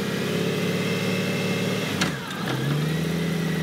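A gray 2005 Honda Goldwing GL1800 motorcycle engine runs steadily and climbs through its gears, with a sharp shift and brief dip around the gear change before the engine note settles lower and continues strongly.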